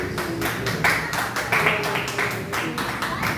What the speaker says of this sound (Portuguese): Vamos receber o Senhor com as palmas que louvam o Senhor Jesus.